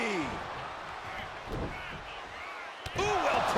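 In the wrestling game WWE 2K24, a DDT slams down with a brief thudding impact amid steady arena crowd noise, followed by a second sharper hit as the crowd swells.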